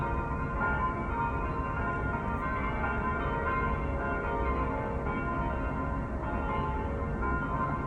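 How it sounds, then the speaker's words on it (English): Church bells of Notre Dame ringing around eight in the morning, a continuous dense peal of overlapping tolls heard steadily throughout, with no talking. "After being awoken by the bells of Notre Dame, we decided to get up and go have breakfast."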